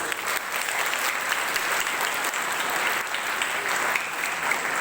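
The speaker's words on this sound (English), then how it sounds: "A huge round of applause," Steady, sustained applause from a school morning assembly audience, dense clapping throughout at an even level with no talking.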